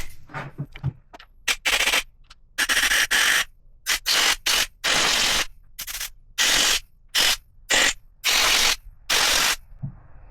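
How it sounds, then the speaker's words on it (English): Compressed air is blown through the passages of a small push-mower carburetor in a dozen or so sharp, loud hissing bursts of varying length, separated by brief silences. "blow through the passages with compressed air"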